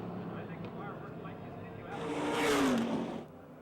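Race cars at Motordrome Speedway accelerating at the green flag start, their engine roar swelling and sweeping past mid-distance beneath an announcer's commentary.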